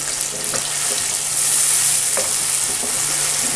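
Lahori chicken chole with roasted cumin and coriander is mixed in a hot pot, a loud close sizzle broken by several sharp spoon scrapes.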